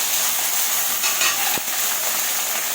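Onion frying in hot cooking oil in a pan, a steady close hiss of sizzling with a brief clatter midway, no voices.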